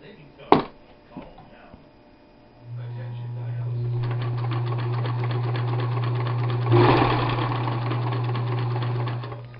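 A Bel Air Bantam Model 33 sewing machine with drop-in bobbin and reverse stitch starts up after a few handling clicks and runs with a steady, close mechanical whir and rapid needle ticking, briefly surging midway.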